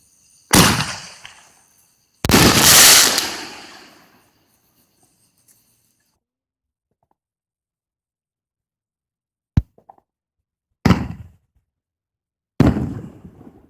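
Fireworks go off outdoors in several separate sharp booms and crackling bursts with long quiet gaps between them, some loud and close, others short single pops.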